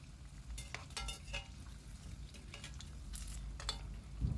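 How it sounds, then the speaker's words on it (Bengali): Cauliflower manchurian pieces deep-frying in oil in a wok as they are turned, giving a soft, steady sizzle with occasional scraping stirs, quiet and close with no voices. "তো উল্টে পাল্টে এগুলোকে আমি ফ্রাই করে নিচ্ছি"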